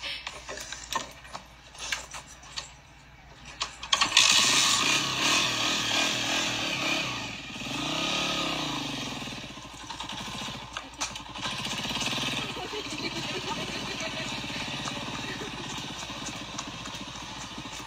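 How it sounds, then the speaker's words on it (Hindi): A motorcycle engine sputters, then catches and revs, settling into a steady rumbling idle with rising and falling revs, close and fairly loud. "मोटरसाइकिल स्टार्ट हो गया और जा रहे हैं।"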